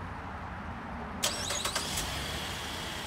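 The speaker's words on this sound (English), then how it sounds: "The vehicle starts up, runs for about 15 minutes, and it will turn itself off." A 2014 Chevy Traverse engine started by a CompuStar remote starter: a short whirring crank with a few sharp catches, then the engine settling into a steady idle, with a constant background rumble throughout.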